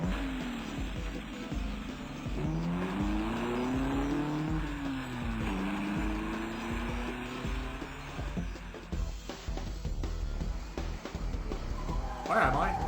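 A car in the video game Flashpoint drives with a rising and falling engine drone and tire squeals, fairly loud throughout, then fades into rougher game noises near the end.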